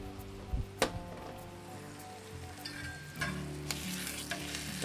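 Shredded cheddar cheese sizzles in a hot black steel fry pan, a steady close frying hiss with a few sharp clatters and crackles near the start and a louder burst of sizzle partway through.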